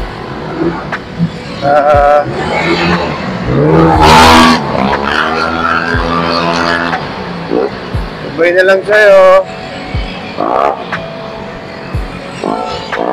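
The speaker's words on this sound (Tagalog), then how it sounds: "Grabe magputakbo ng motor" A motorcycle engine revs and surges while riding on the road, with a loud rising whine midway and a rough drone throughout. Someone talks over it at close range.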